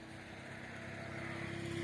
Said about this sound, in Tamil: நீங்கள் எத்தனை வண்டி போயிட்டுருக்கு நீங்களே பார்க்குறீங்க